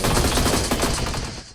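Rapid gunfire from the video game Energy Assault, a dense, loud burst of overlapping shots that rattles on continuously for under two seconds before tapering off.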